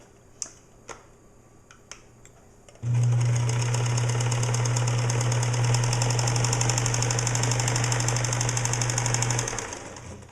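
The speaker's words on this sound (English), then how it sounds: "just baste these two sides together so it'll hold that triangle in place" A sewing machine basting two fabric sides together starts after a few faint clicks and then runs fast and steady, a loud, close, even mechanical hum with rapid stitching ticks for about seven seconds before it slows and stops.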